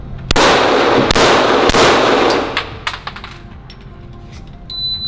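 Pistol fired indoors at a range: three sharp, loud shots about a second apart, each followed by a clattering ring of brass casings dropping and bouncing on the floor.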